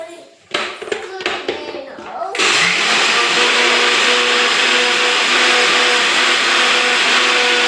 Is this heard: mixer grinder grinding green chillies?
yes